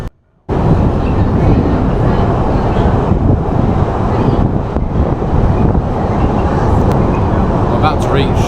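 A London Underground Piccadilly line train runs at speed in a tunnel, a loud continuous rumbling roar with rattling and wind noise that cuts in suddenly after a brief quiet moment and stays steady.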